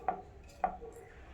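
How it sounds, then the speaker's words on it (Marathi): A knife finely chopping tomatoes on a board gives two close, crisp chops about half a second apart, then a quiet moment. "हे पण बारीक चिरून"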